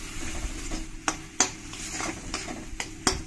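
A spoon stirs green chillies, salt and turmeric in a hot cooking pan with oil, giving steady sizzling broken by several sharp scraping clinks against the metal; close and clear, with no talking.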